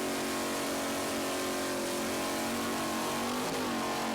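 An A-Class racing powerboat engine at full throttle during an offshore race at Islamorada, a loud continuous high-pitched roar that rises slightly in pitch.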